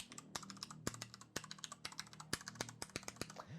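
Rapid, crisp keystrokes on an HP Omen Spacer TKL wireless plastic flatback keyboard clatter in a steady, uneven stream, close and fairly quiet, with no voices.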